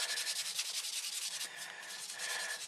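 A small plastic model kit part, from a 1/48 Gloster Javelin, being polished with a nail buffing sponge: a quiet, close, rapid back-and-forth rubbing in short regular strokes, with no talking.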